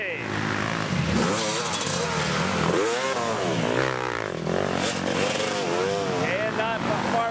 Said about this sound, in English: here comes quite a few dirt bikes